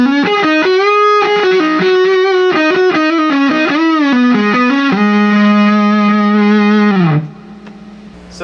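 An electric guitar on its neck pickup plays through a Rivera Venus 6 amplifier, giving a loud, saturated, sustained lead tone with smooth bends and vibrato. The notes run continuously for about seven seconds, then cut off into a quiet tail with no talk.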